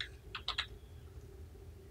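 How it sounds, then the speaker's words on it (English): Typing text on a computer keyboard: a short run of three or four quick, crisp key clicks close up, then quiet faint room hum. "Let's type our text."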